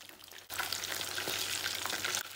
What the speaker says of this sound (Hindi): अब हम इसे अच्छी तरह से डीप फ्राई करेंगे